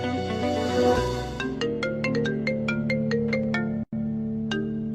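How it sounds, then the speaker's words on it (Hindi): A phone ringtone plays a bright, plinking melody of repeated notes, loud and close, with a brief cutout partway through. "फोन आ रहा है"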